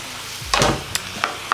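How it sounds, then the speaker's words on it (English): Bacon sizzling in a frying pan, heard as soft crackling bursts with a few sharper pops at intervals, close and alone without talk. "Nothing better than some sizzling bacon."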